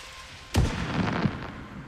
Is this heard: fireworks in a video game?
yes